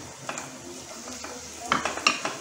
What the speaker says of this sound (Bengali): কিশমিশটাও দিয়ে দিলাম, রং বদলাবে না খুব একটা, জাস্ট অল্প করে ফ্রাই করে নেব।